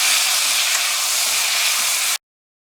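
Vegetables steaming in a covered pan over medium-high heat, a loud, steady broadband hiss that holds evenly for about two seconds and then cuts off abruptly, no voices.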